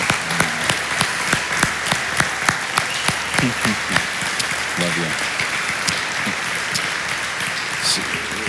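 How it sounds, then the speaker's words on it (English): A church congregation applauds and cheers for Kaylee, dense clapping with scattered whoops throughout, while a voice speaks briefly over it. "So thanks for cheering Kaylee on"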